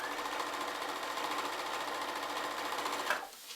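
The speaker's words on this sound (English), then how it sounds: "I just sewed basic straight stitch, right?" A sewing machine runs a straight stitch through stretch knit fabric, a close, steady, fast mechanical whir that continues evenly for about three seconds before stopping.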